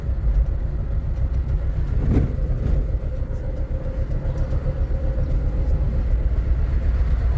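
A learner driver's car cruising in third gear on a free road, a steady low engine and road rumble throughout at close range, with a faint brief knock near the middle and no voices.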